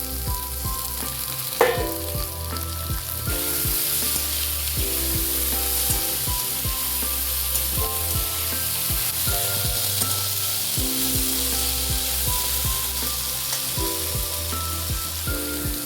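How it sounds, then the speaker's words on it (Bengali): Diced potatoes fry in a little oil for a Bengali vegetarian banana-flower dish, a loud, steady sizzle broken by repeated scraping stirs of the spatula, close and continuous with no talk. "এই আলুগুলোকে দিয়ে এই অল্প তেলের মধ্যে হালকা করে নেড়ে নেওয়া হবে, অল্প করে ভেজে নেওয়া হবে আলুগুলো।"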